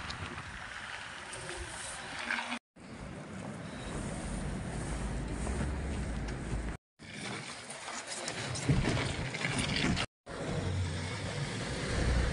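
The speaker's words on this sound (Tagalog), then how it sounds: "So, malakas yung hangin" Strong wind buffets the microphone in a steady broadband roar on a cold, snowy day in Tromsø, Norway, with a few brief dropouts where the sound cuts out.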